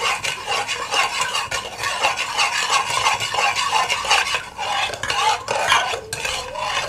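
A spoon stirring orange juice mixed with sugar and cornflour in a pot, a continuous close scraping and swishing with rhythmic strokes and no pause.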